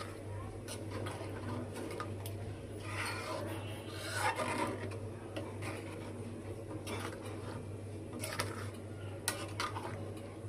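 A spoon stirs tempered dal with radish in a pot, giving soft scraping and clinking against the metal in irregular bursts, fairly quiet over a low steady hum, with a voice talking at times.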